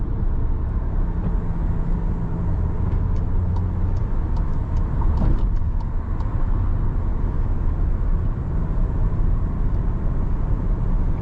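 A 2024 VW Tiguan 2.0 Elegance cruising at about 153 km/h, its cabin filled with a loud, steady roar of engine, tyre and wind noise that continues unbroken throughout.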